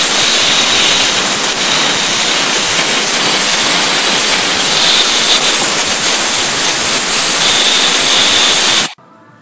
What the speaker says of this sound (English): blow out that cylinder very, very well from all those broken porcelain pieces